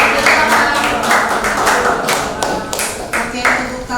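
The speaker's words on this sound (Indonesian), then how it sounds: "tepuk tangan untuk sekali lagi kelompok 3" Classroom applause for a student group after a presentation during an academic supervision session: loud, close, uneven clapping in irregular bursts, with voices talking over it.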